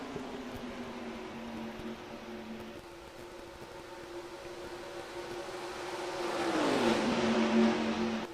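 Engines of race cars in a stock-car racing video game at the Auto Club 400 circuit, drone steady and close, swelling louder near the end as the cars close on lapped traffic and pitch shifts with the pass.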